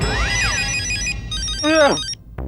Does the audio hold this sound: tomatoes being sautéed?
no